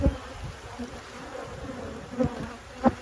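Honeybees buzz steadily and close by in an opened beehive holding capped brood, a dense continuous hum that swells briefly a few times.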